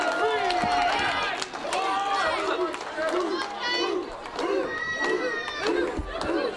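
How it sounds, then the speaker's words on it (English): Crowd at a Southern Pro Wrestling match between Travis Banks and Kane Khan cheers and claps after a kick-out, a lively roar of shouts and applause with voices and chatter mixed in throughout. "Listen to this crowd trying to will Khan on. Applauding when he kicked out."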